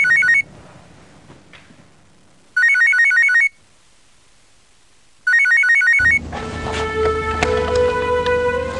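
A telephone rings in three short bursts of rapid electronic trilling tones separated by quiet pauses, then loud music with sustained tones takes over for the final seconds.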